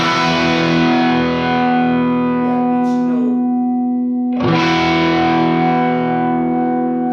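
An electric Gibson SG played through an amplifier rings out in a loud, sustained distorted chord that decays, then a fresh strike near the middle sets a second chord ringing with the same full sustain.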